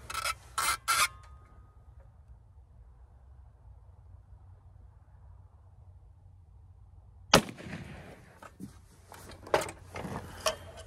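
A rifle fires a .223 Hornady VMAX round into ballistic gel outdoors in cold winter weather, with a sharp shot near the start and another loud crack later, each followed by rustling handling noise over a low steady hum.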